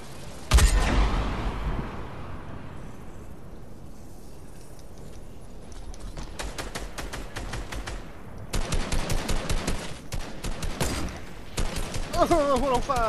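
Rapid automatic gunfire from a Fortnite duos match crackles in bursts, with a sharp shot near the start and dense volleys later, loud and close, sometimes under brief talk.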